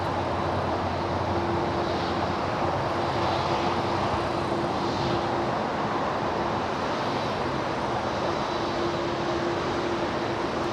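Boeing 747-8 with GEnx jet engines at LAX, a steady broad vacuum-like whoosh and rumble that holds evenly throughout with a faint tonal hum beneath, fairly quiet and distant, no voices.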